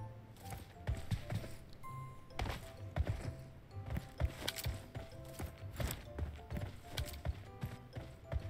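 Footsteps in PUBG Mobile, a steady run of soft, clopping thuds repeating through the whole stretch over low ambient rumble, fairly quiet and with no talk.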